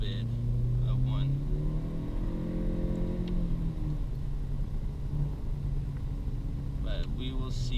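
Honda Civic with an AFE performance package accelerating in sport mode, heard from inside as a steady engine drone rising in pitch, with someone speaking over it.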